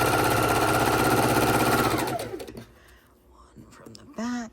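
A sewing machine stitches rows of a Christmas quilt, running in a fast steady whir for about two seconds before stopping, followed by faint handling sounds and a short voiced noise near the end.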